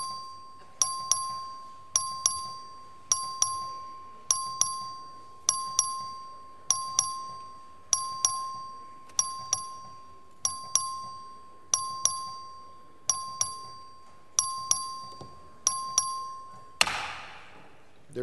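Voting bell in the Texas House of Representatives chamber, rung for a record vote. About thirteen evenly spaced, ringing chimes sound roughly every second, each decaying before the next, and the sequence ends in a short burst of noise.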